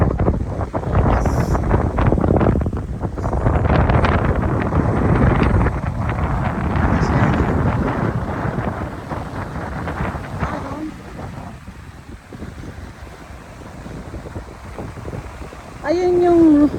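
Heavy sea wind buffets the microphone in strong gusts by the water near Romblon town, easing off later, with a voice briefly heard near the end.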